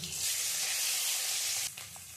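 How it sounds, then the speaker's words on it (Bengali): Ginger paste frying in hot oil with bay leaves and whole cumin, a loud bright hiss of sizzling that drops off abruptly near the end, leaving a softer fizz. "শুধু লাল লাল করে আমি একটু আদাটা ভেজে নিয়েছি।"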